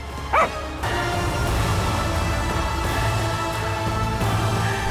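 A single short dog bark sounds near the start, loud and close, then gives way to a steady rumbling outdoor background for the rest of the clip.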